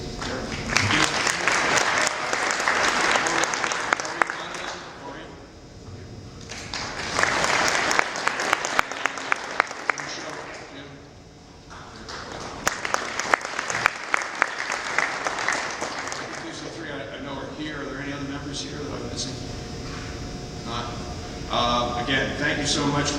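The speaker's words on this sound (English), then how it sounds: "perhaps you would give them a warm round of applause" An audience at a Marian Catholic High School open house in Hometown applauds school board members. Several loud rounds of sustained clapping fill the room, with short pauses of talk between them and a voice speaking at the end.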